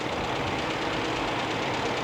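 A John Deere G model tractor, an older machine, labors under load at a 1985 country tractor pull, its engine a steady, dense rumbling drone with a knocking roughness, continuous and unbroken throughout.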